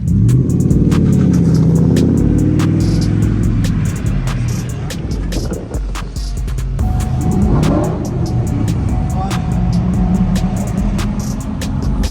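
A C7 Corvette on a trailer being towed onto the road, with a steady loud engine and road drone that rises and shifts over twelve seconds, with a few clicks and rattles on top.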